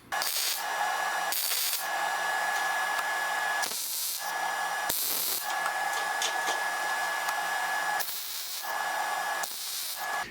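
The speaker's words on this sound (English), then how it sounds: "I'm placing that at the end of the flat bar, and I'm going to weld that on both sides." Nuts are welded onto the end of a steel flat bar, heard as several loud, harsh buzzing bursts a second or two long, separated by brief pauses, close up with no talking.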